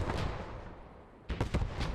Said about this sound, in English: Mortars, mortars, mortars.